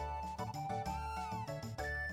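A cat meowing in the video game Chrono Trigger, heard as a few drawn-out, tonal meows in quick succession with short gaps between them, clear and alone, with no talk over it.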